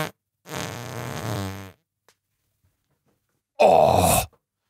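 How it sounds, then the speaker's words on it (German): Two loud, drawn-out farting blasts sound up close, the first lasting over a second and the second shorter and harsher, separated by near silence. "weil ein fetter Furz kam"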